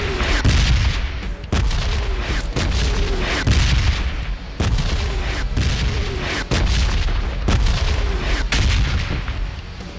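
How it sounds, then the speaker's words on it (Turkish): A heavy weapons mode in PUBG Mobile, with booming rocket-launcher style blasts going off in a repeated series, loud and close, with a few bursts of rapid fire between them. "Roket atarsın."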